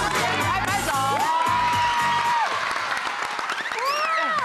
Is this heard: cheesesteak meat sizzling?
no